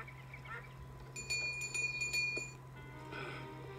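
A cartoon duck quacks in a short burst of several honks amid light tinkling chimes and music.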